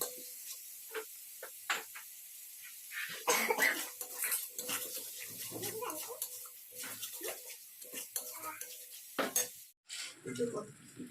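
Water splashes into sizzling masala in a pan for a raw banana curry, giving a burst of hissing spatter with clinks and stirring scrapes. The sound is close and moderately loud, with a faint voice now and then.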